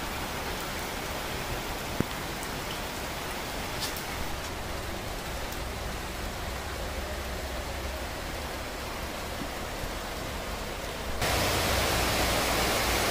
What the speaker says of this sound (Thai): ตอนนี้ฝนตกชุ่มฉ่ำเลยครับ